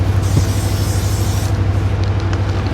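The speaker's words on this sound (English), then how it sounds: "Cody's spray painting." Spray paint hisses from a can in a steady, loud, continuous stream at close range beside a farm feed barn, with a low background hum underneath.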